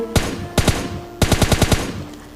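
S12K shotgun fire in PUBG Lite: sharp loud blasts, first one shot, then a quick pair, then a rapid run of about five shots, ringing briefly after each.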